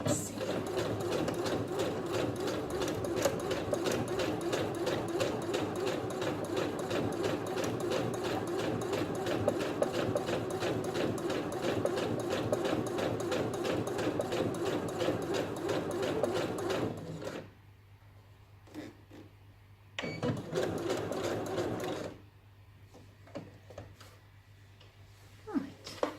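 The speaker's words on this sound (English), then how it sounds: "Reinforcing backwards a few stitches." Twin-needle sewing machine running in a steady, fast, rattling stitch for a long stretch, then stopping. A brief reverse run follows to reinforce the seam with a few backward stitches, with quiet gaps around it.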